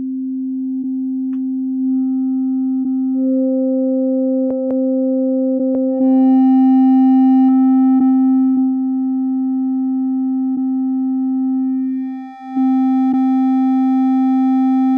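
A loud, steady sine tone with added harmonic overtones, a second higher tone briefly joining in, and a short dip near the end.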